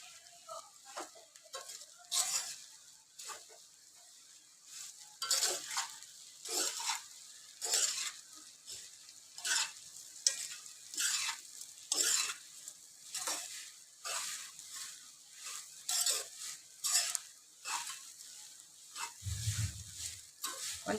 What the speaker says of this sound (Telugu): ఇప్పుడు మంచిగా మిక్స్ చేయాలి